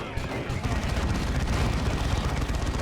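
Demolisher cannon fire and explosions in the video game Dawn of War 2 make a dense, continuous roar of battle with low rumbling blasts, loud throughout, with faint voices underneath.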